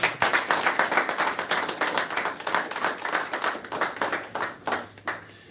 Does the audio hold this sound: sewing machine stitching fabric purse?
no